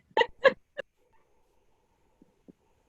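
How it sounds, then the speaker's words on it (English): A dog barks three times in quick succession, close and fairly loud, followed by a couple of faint, soft yips in an otherwise quiet room. "As soon as I started talking, my dog started barking."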